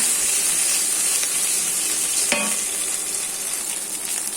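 Turmeric and chili powder sizzling in hot oil with fried ginger paste, stirred in a pot for a katla fish curry with green banana; a steady close frying hiss with one sharp scrape midway, no talking.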